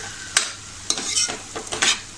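Raw jackfruit curry, Malvani style with coriander added, is stirred in a pan: four or five close scraping strokes of a spoon against the metal over a soft sizzle.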